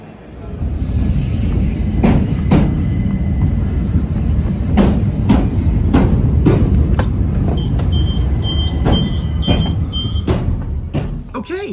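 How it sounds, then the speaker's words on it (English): A Class 376 Metro Electrostar electric train rolls along the rails with a steady low rumble and repeated sharp clicks and clunks from the wheels and track joints, heard from on board. A voice speaks briefly. "we are on board the 376 here at Charing Cross, and we're going to be getting this train to Elmstead Woods"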